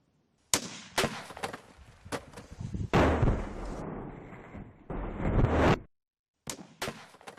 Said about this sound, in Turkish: Atış.